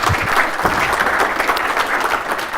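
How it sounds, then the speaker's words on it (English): Audience applause at a university talk on automatic content creation, a steady dense wash of clapping filling the room at close range, with no talk over it. "please give a round of applause for Emiel"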